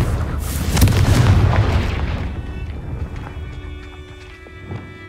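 A Confringo fire spell goes off in Hogwarts Legacy as a heavy booming explosion that fades over a couple of seconds, mixed with horse hoofbeats and faint game effects.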